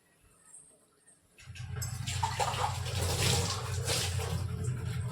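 Water is poured into a pot of rice for biryani, starting quietly after a short pause and then settling into a steady, close, full gush that keeps going to the end.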